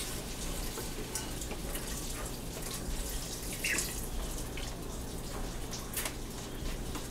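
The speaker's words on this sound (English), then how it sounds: "I am going to add beef broth, and this beef broth has no salt" Unsalted beef broth poured into a pan of stroganoff, a soft continuous liquid trickle and splash at low level throughout, with no speech.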